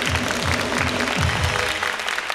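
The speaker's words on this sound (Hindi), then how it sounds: "ऑडियंस की तालियां डिसाइड करेंगी।" Studio audience applause on a talk show, brisk clapping mixed with a series of rhythmic, booming drum-like thumps that fade out toward the end.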